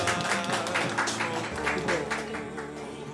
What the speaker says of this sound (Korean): 자, 박수 크게.